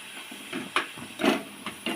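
Onion and tomato cooking in a pan while being stirred, a steady sizzling hiss broken by several soft scraping stirs, close up.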